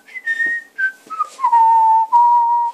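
A person whistles a melodic tune in several clear, loud sustained phrases with brief pauses between notes, close and alone.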